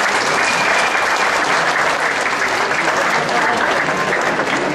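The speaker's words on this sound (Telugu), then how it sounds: "please give them a big round of applause" A large audience at an evening stage show gives a big round of applause, a dense, steady roar of clapping that stays loud and unbroken throughout.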